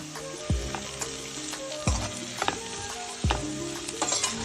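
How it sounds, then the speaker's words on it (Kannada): Vegetables for fried rice frying in a hot pan, a steady sizzle broken by three loud scraping stirs at regular intervals, close up with no talking. "ಈಗ ಚೆನ್ನಾಗಿ ಫ್ರೈ ಮಾಡ್ಕೊಳ್ಳೋಣ."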